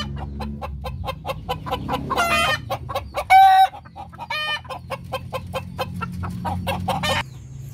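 A Darag rooster and hens cluck in a steady, close-up run of short rhythmic clucks, broken by a drawn-out crow midway and a few louder squawks.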